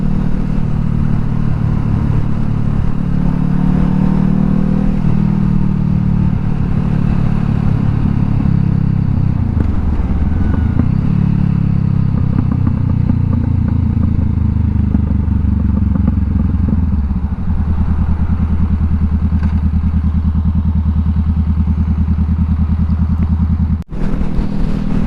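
A 2020 Honda CBR500R motorcycle being ridden, its engine drone loud and continuous with a swell and dip in pitch partway through and wind rush on top.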